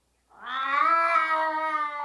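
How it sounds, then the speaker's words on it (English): A sad, drawn-out cat meow used as a sound effect in The Simpsons, one long wavering plaintive cry lasting nearly two seconds, loud and alone with no talk. "that sad cat sound in the background is just so funny"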